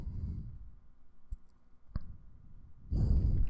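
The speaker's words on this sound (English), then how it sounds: "We're gonna double click in here" A computer mouse clicked near the microphone, giving two sharp separate clicks against a quiet room with low rumbling noise at the start and end.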